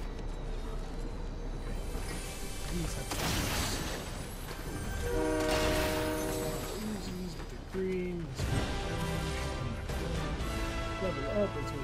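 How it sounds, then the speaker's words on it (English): A Doom Train horn blares in a video game, long tonal blasts sounding loud and near several times over rumbling game noise, with a voice talking at points. "Oh, it's so cool, it's a Doom Train."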